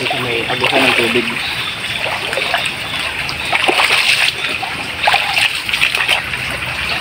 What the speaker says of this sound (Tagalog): Kasi may agusan ng tubig.